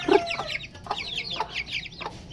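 A mother hen clucks in short, soft bursts with a few sharper calls, close by against a quiet farmyard background.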